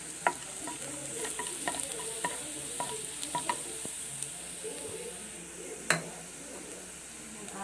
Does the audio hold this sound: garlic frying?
yes